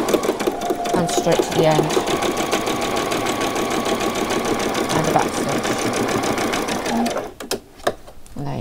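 A sewing machine back stitching along the shoulder seams of a frilled top, running in a steady fast mechanical chatter for about seven seconds before stopping, with a voice talking over it and a few clicks after.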